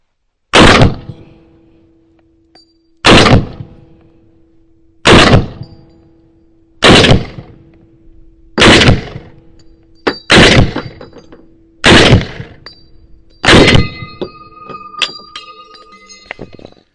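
M1 Garand rifle shots fired one at a time, eight loud sharp cracks evenly spaced about two seconds apart, and after the last one a bright metallic clip ping followed by a small clatter.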